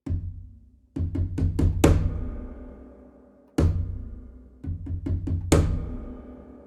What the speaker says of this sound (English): just try this first one, an aggressive knocking